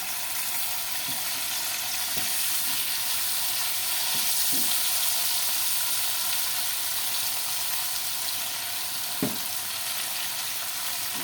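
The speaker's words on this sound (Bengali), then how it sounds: "চাপা শুটকিগুলো তেলের মধ্যে ভাজা করে নেব" Dried chapa shutki fish fries in oil with a steady, even sizzle, fairly soft and continuous, broken by a few faint taps of stirring.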